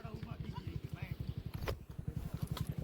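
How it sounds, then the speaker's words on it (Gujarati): A mare walks in a village in Gujarat, her hooves striking a steady, even clip-clop rhythm at close range, with faint voices in the background. "હજી એક ત્રીજી ઘોડી આવે"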